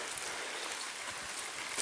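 Steady rain falling outdoors around a chicken and duck yard, a soft, even hiss of drops with no breaks, moderately close.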